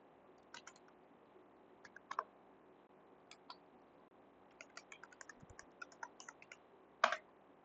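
Crisp computer clicks and keyboard taps sound in a quiet room, scattered singly and in quick pairs, with one louder sharp click near the end.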